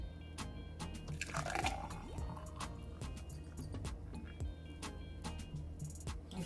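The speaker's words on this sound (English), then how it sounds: "let's pour some in" Liquid pours and drips into glassware, with small clinks and ticks scattered through a quiet room.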